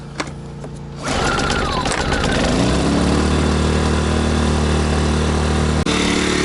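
A small Sportsman GEN1000i portable generator engine starts after a second and settles into a loud, steady buzzing run close by, with a brief click near the end.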